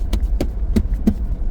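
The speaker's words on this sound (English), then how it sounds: "the dashboard. It's creaking a little bit." A car's dashboard creaks and clicks while driving, giving four sharp, evenly spaced ticks over a steady low road rumble.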